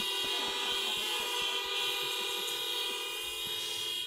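Car horns from a drive-in church congregation at an outdoor Sunday Mass blare in a dense, continuous overlapping chorus, loud and sustained throughout with no talk.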